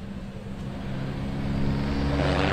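Race car sweeping past on a lap of a circuit sprint event, its engine note building steadily and growing louder as it approaches, a continuous droning roar with no voices.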